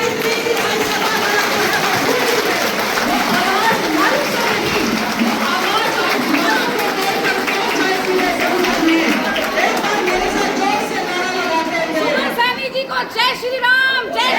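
A crowd at a rally for a women's convention claps in a steady, loud wash that runs the whole time, with a voice speaking over it and chatter mixed in.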